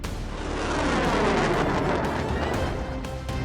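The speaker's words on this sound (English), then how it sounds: "The missile struck near Vukmirovic's wing, causing minor damage." A missile explodes near a jet's wing in a single sustained, heavy blast with a deep rumbling roar that fades over a few seconds.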